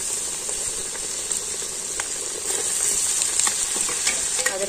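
Garlic and ginger frying in hot oil in a pan for a tangy pickle, a steady close sizzle and crackle with a few sharp pops.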